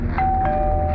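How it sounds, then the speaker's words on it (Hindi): A short electronic doorbell tone sounds, a steady high ring over a low rumbling background, brief and fairly loud. "डोरबेल बजी,"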